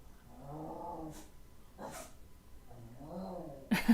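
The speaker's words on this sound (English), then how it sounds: "My dog hears people outside and she's barking." A pet dog indoors barks and whines at people outside, giving a few short, fairly soft bursts spread across the moment with quiet gaps between, ending in one louder, sharper bark.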